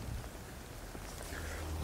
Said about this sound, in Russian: Да, всю романтику испортил нам дождь.